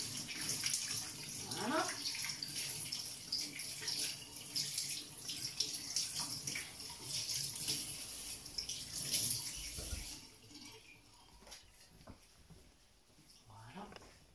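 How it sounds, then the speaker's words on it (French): Tap water runs into a sink as hands are rinsed under the faucet during home baking, a continuous splashing hiss that stops partway, followed by a brief spoken word. "passage sous le robinet obligé, hein, pour les mains"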